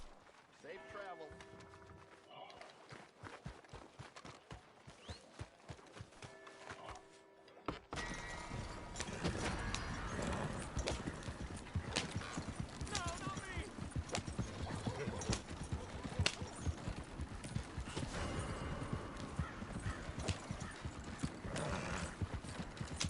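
A horse gallops in Red Dead Redemption 2 with rapid, continuous clip-clop hoofbeats. A quieter stretch with sparse hoof hits leads into a louder, denser run, joined by a brief whinny and a voice.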